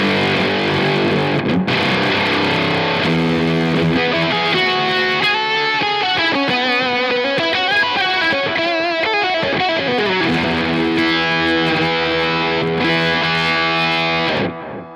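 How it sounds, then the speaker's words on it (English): Electric guitar through a Mythos Argonaut octave pedal driven into extra gain, giving a loud, buzzy Octavia-style fuzz with bright upper-octave overtones as sustained chords and sliding notes ring out alone. "this Argonaut is working in that octave, it's getting a lot closer to an Octavia drive sound and away from more of that ring mod sound"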